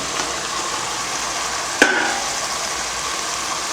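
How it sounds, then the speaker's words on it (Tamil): Tomato, potato and brinjal frying in a pan for a tamarind curry, a steady, fairly loud sizzle with one sharp clink of a utensil partway through. "தக்காளி போட்டுட்டு உருளைக்கிழங்கும் கத்திரிக்காயும் இதில் சேர்த்துடலாம்."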